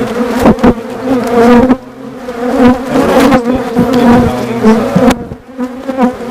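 Honey bees buzz loudly and densely around beehives, a continuous close-up drone with shifting pitch as individual insects pass near.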